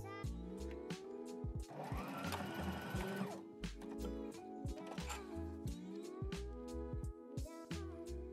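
A sewing machine stitches a rubber band onto fabric for a cottagecore romantic dress, its motor running in a sustained close burst with quieter stop-and-start stitching around it and no talk.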